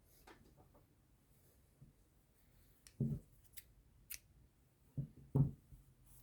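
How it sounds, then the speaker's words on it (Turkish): Scissors snip through yarn at an amigurumi doll crochet project: a few quiet, close crisp cuts spaced apart in an otherwise hushed room. "Bir zincir çekip ipimi keseceğim."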